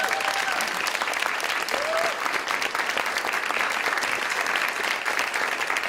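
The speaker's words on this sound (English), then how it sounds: "Give them another round of applause, please." Audience at an LA web festival award ceremony applauding, a steady, dense round of clapping from a sizable crowd that holds evenly throughout, with faint voices mixed in.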